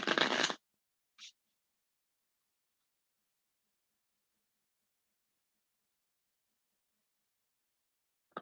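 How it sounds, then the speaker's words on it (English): Tarot cards being shuffled: a quick, crisp burst at the start and a brief second rustle, then near silence. "I'm going to shuffle these 4 times"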